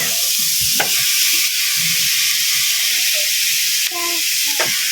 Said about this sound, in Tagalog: Ilagay na natin yung sandagamutak na sibuyas.